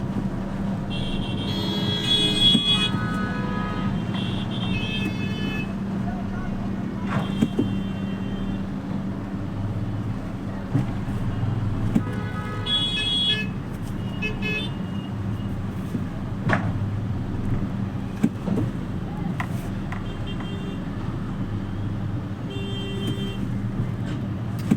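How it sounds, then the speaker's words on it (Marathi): Road traffic jam in front of Turbhe station in Mumbai, where a truck broke down while making a U-turn, with a continuous low idling rumble of cars and heavy vehicles, a few short horn toots and passing engine swells. "तुरुबा स्टेशनच्या समोर ट्रॅफिक जाम झालेला आहे"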